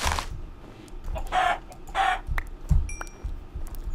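Minecraft chickens cluck in short separated bursts, several calls spread across a few seconds with small game sound effects between them and no talk.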